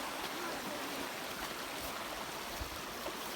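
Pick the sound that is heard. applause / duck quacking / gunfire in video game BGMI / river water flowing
river water flowing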